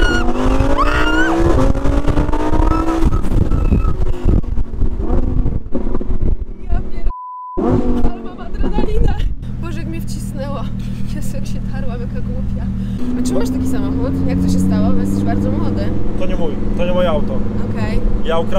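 A Lamborghini sports car accelerates hard on Warsaw streets, its engine roaring loud and close through rising revs and gear changes, with a brief beep-muted gap and people talking over it.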